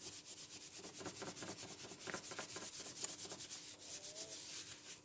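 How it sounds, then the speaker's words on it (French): A cloth rubbed back and forth over a craft work surface in quick, even strokes, a soft, close, steady rasping scrub. "on va nettoyer un petit peu le plan de travail"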